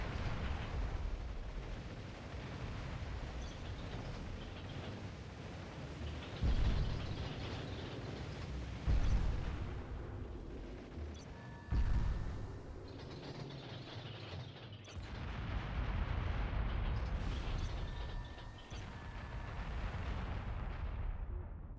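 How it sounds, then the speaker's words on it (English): Bombs blasting in a video game during a live stream, a dense run of booming explosions and rumbling impacts with sharp bursts near 6.5, 9 and 12 seconds over continuous clattering game noise, no talk. "Oh, I bomb everything in my way."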